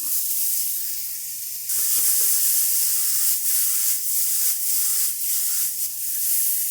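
Onions and mushrooms sizzle in clarified butter in a pan, a steady bright hiss that swells louder partway through, with faint crackles and small spatters.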